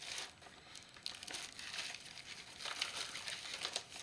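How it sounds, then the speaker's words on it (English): Vinyl record pulled from its paper sleeve, a clear pressing with blue smoke, giving close, quiet crinkling and rustling that rises and falls in several bursts over a few seconds. "And I can't get the record out"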